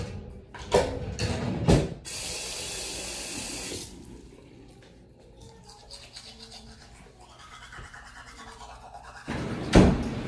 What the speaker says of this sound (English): I'm gonna brush my teeth again